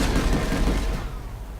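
Four guns firing together in the sci-fi shooter game Planetside 2, a heavy continuous roar of rapid shots that thins out slightly toward the end.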